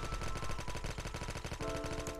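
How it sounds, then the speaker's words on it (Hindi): Rapid automatic fire from an AK117 rifle in Call of Duty Mobile, a loud, steady stream of closely spaced shots running the whole stretch with a tonal game sound layered in near the end. "अब ये सामने बंदा खड़ा हुआ और मैं इससे हेड शॉट्स मारता हूँ"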